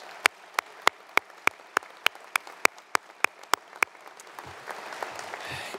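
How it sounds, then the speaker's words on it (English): At a university commencement, as the faculty stand, a single clapper claps in a steady, crisp rhythm near the microphone before broader audience applause builds, softer and diffuse, toward the end. "Yeah, a round of applause."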